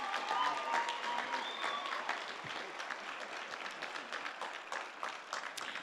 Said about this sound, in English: How about we give one more round of applause to our 3 amazing student